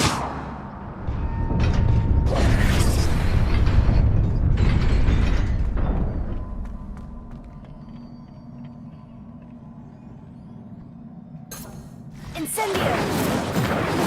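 An Incendio fire spell cast in Hogwarts Legacy erupts in a loud, roaring whoosh that swells for several seconds, fades to a low rumbling drone, then flares again in a second burst near the end.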